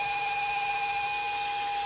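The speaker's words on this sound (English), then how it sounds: "drill it in. This is a wood drill bit as well." A drill fitted with a pointed wood bit bores holes into a flat tray, giving a steady, close, continuous motor whine with no talking.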